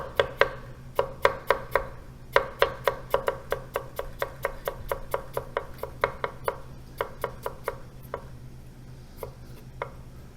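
A knife cuts peeled ginger into thin slices on a cutting board for pickled sushi ginger, crisp close taps in quick steady runs with brief pauses between them, easing off toward the end.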